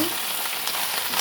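Century tuna sizzling and frying in a pan while being stirred, a dense, steady crackle close up with faint scraping under it, no talk.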